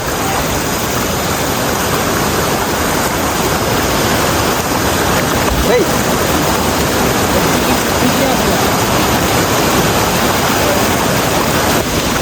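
A steady, loud roar of rushing water pours on without pause, a thick wall of noise like a nearby waterfall.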